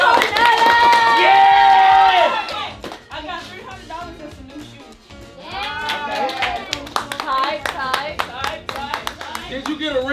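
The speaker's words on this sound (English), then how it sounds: "Come on, clap it up." A classroom of students claps and cheers for a classmate, scattered hand claps mixing with high whooping, bleat-like voices; a loud sustained cheer comes first, followed by choppier clapping and chatter.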